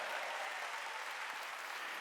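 A church congregation at a Korean Wednesday worship service breaks into loud, sustained clapping, a dense unbroken wash of applause with no pause.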